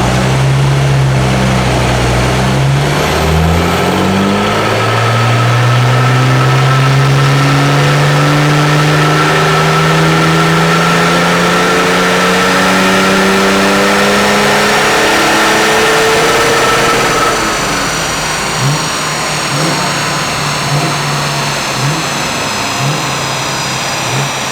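A BMW car engine runs on a rolling-road dyno, climbing steadily through the revs in a long, loud, droning pull before easing back toward a lower, steadier note, close and continuous with no talk.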